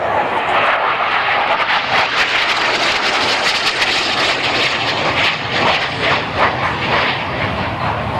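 Display aircraft flying overhead at an air show at Baldonnel, a loud, steady engine roar that swells and fades slightly as the plane passes through its display.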